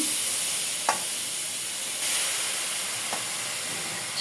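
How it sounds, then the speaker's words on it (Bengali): Chopped kalai greens sizzling in a hot wok, a steady broadband hiss with a few brief louder bursts as the leaves are stirred, close and continuous with no talking. "চুলায় কড়াই বসাই দিয়েছি শাকগুলো দিয়ে দেব"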